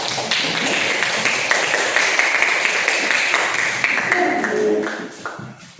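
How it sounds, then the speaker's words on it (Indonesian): Classmates clap for group 3 after their presentation in a classroom, a dense, steady patter of many hands lasting several seconds before trailing off, with faint voices at the end. "Tepuk tangan dulu untuk kelompok 3."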